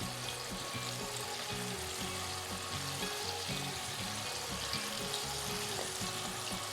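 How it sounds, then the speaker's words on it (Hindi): K&N's chicken tender pops fry in hot oil with a steady, dense sizzle and crackle that stays close and even throughout, with no voices. "इसको हम फ्राई होने देंगे थोड़ी देर।"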